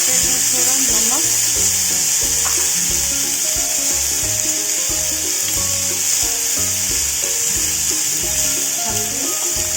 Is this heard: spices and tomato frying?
yes